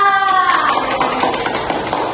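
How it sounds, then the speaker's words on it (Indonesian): Elementary schoolchildren in a classroom clap for a group, a busy flurry of small hands over children's chatter, with a voice heard at the start. "tepuk tangan buat kelompok A"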